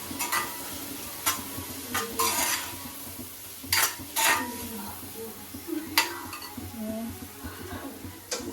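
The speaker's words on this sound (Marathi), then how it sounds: "चवळी टाकून घेते. मिक्स करून घेते." A spoon stirs a spiced cowpea mixture with coriander-cumin powder and garam masala in a cooking pot, giving several separate scraping and clinking strokes over a faint background hum, with no talking.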